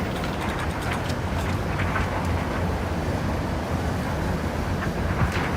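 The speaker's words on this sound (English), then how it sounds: "It's so windy out here." Strong wind buffets the microphone on a downtown Manhattan street at sunset on a cold March day, a constant loud rumbling roar with no pause and no voices.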